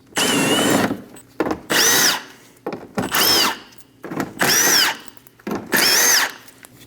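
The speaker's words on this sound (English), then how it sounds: "We're going to use an 8mm socket. We're going to remove the 5 bolts." A power drill with an 8mm socket runs in five loud, distinct bursts, each about half a second to a second long and rising in whine, with short pauses between, while bolts come out of a 2011 Dodge Durango's front inner fender liner.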